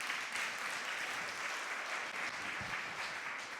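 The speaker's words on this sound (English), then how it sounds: "Keep clapping for U conferences." Conference audience applauding at a keynote, steady dense clapping throughout, loud and sustained with no voices over it.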